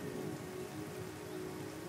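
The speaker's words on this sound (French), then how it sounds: "Cette pluie nettoie les feuilles." Steady rain falls on leaves in a soft, even hiss, heard alone and without any break.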